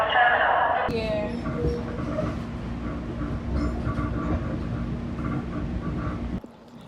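A Metro-North commuter train rumbling and rolling on the tracks with a steady low drone and clatter, a brief squeal at the start, and people talking nearby before the noise cuts off near the end.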